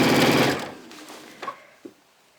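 A sewing machine with a wide 1/2-inch rolled hem foot stitches a rolled hem in a continuous circle of fabric, a fast close buzzing whir that stops after half a second, followed by a few faint clicks.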